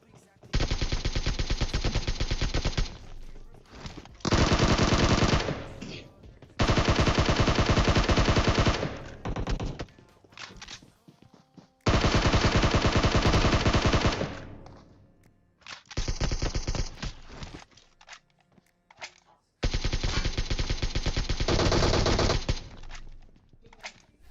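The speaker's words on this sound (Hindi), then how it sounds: "अगर मैंने 150 गोली चलाई तो उसमें से 130 गोली मैंने हवा में बर्बाद की है" Automatic rifle fire in PUBG Mobile comes in about six long, loud bursts of rapid shots, separated by short quiet gaps.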